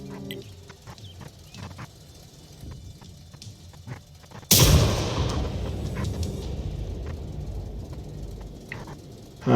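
An artillery gun fires once in the tank battle game World of Tanks: a single sudden, loud blast halfway through, followed by a long rumbling decay over quieter background game sounds.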